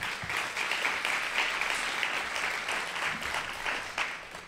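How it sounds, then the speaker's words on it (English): Sustained audience applause fills a lecture hall, a dense, steady wash of many hands clapping at close range for several seconds with no voices standing out. "I think that's worth a round of applause."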